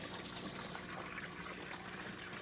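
Water gushes and splashes steadily in an aquaponics fish tank as fish are released back in, a continuous close wash of liquid noise without talk.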